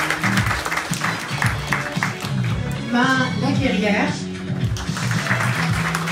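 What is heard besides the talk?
audience applause for team members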